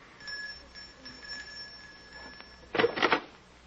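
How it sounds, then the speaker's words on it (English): A doorbell rings in an old radio drama, a short, bright double ring near the end that follows a faint hiss and a thin, steady tone. "Just ring the bell."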